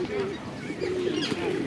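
Pigeons coo softly while pecking at bird seed in Hyde Park, London, a low murmuring call under nearby chatter and faint city ambience.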